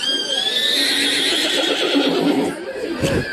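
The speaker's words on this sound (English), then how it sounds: "A 21-year-old rescue miniature horse named Milo." A 21-year-old rescue miniature horse gives a long, loud, close whinny with a wavering high pitch that trails off, followed by a brief snort or shuffle.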